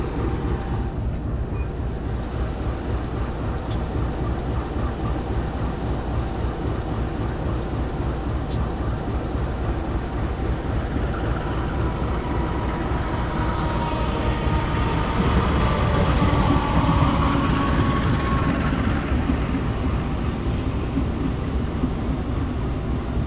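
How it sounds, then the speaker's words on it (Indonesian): Dharmawangsa passenger train at a station, bound for Surabaya Pasar Turi, as a steady broad rumble and hiss of rail noise that swells slightly midway, with faint distant voices underneath. "kereta api Dharma Wangsa akan kembali diberangkatkan menuju Surabaya Pasar Turi"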